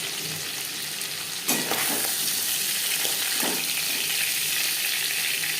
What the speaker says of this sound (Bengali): রসুন পেঁয়াজে মাছের মাথা